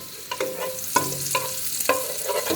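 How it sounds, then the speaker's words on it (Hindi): Cumin seeds frying in melted butter for an Indian dish, giving a steady close sizzle with repeated stirring scrapes and clinks of a spoon in the pan. "हमारा जीरा भी भून चुका"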